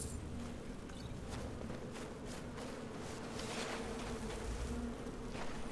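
Dense insect swarm buzzing from a spriggan in Skyrim, a steady droning hum throughout with faint footsteps and game ambience beneath, no talking.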